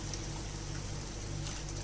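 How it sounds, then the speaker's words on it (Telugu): Water poured into a pan of veg keema curry makes a steady, soft rush of liquid that runs evenly for about two seconds, with no voices over it. "కర్రీకి కావాల్సినంత వాటర్ వేసుకుందాం."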